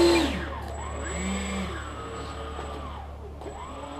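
An FMS 1500mm A10 RC jet model idles at about 10% throttle, giving a steady close whine with a low hum and a faint high tone that holds throughout, with no voices.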